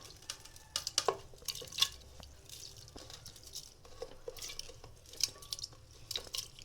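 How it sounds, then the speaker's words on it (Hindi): Soft drips and small splashes come at irregular intervals as boiled turnips go into water for a turnip pickle, faint and close with quiet handling sounds between. "अब हमने क्या करना है, इस पानी के अंदर ये सारा शलजम डाल देना।"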